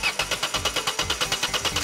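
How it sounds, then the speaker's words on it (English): A front loader engine cranks in a fast, even rhythm, about eight to nine regular chugging pulses per second with a metallic rattle, loud and close, running steadily throughout with no voices over it. "Time to start the engine!"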